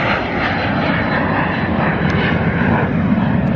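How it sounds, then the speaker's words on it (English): A small private jet taxis out at an airport on a rainy day, a loud, steady engine roar held close throughout with no voices. "Little private jet going out."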